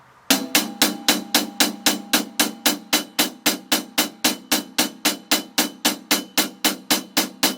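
Drum kit 8-beat groove with a steady hi-hat struck at even level and spacing, a fast string of regular sharp hits with quick decays, close and loud with no talking.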